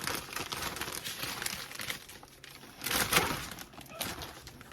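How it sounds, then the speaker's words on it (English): Crinkling and rustling of a plastic Ziploc bag as ribs seasoned for root beer barbecue are packed inside, close and continuous with a louder crumpling burst partway through. "Then I'm going to add him in a Ziploc bag,"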